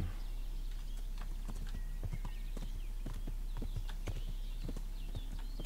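Horse hooves in the video game Kingdom Come: Deliverance clip-clop in a steady trotting rhythm along a road, moderately close, over a constant low hum with no talking.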